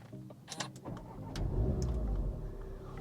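An Audi TTS Mk3 turbocharged 2-litre four-cylinder engine cranks and starts, then settles into a loud, steady idle rumble close by.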